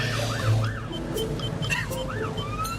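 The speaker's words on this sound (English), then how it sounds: "I love the siren." A wailing ambulance siren from an Australian paramedic crew's vehicle rises and falls in repeated sweeping cycles over steady road and engine rumble, loud and close throughout.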